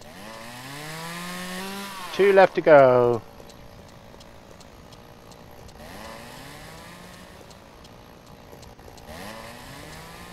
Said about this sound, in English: Chainsaw starts when you get near a bush.